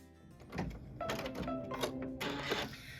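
An embroidery machine stitches a white quilt block panel, giving a steady mechanical whir with repeated rapid pulsing bursts of stitching, close and moderately loud, with no talking.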